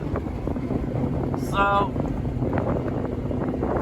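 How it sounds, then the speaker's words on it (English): Strong outdoor wind buffets the microphone on a trail near houses beside a dead Jeep turned rock crawler, a loud, continuous low rumble that runs throughout, with a brief tonal whine in the middle and a voice speaking briefly. "It's windy as heck, man."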